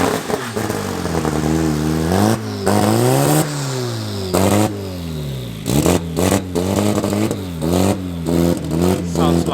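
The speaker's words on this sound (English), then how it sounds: "Sounds like a misfire." Race car engine at a raceway during a solo run at a club event, revving in rough, uneven bursts with sharp cut-outs and stutters like a misfire, loud and close, with no talk over it.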